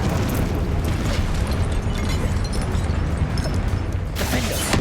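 In the Hogwarts Legacy video game, a Confringo spell goes off amid combat as a dense, loud rumbling blast that fills the clip, with a brighter burst near the end and no voices.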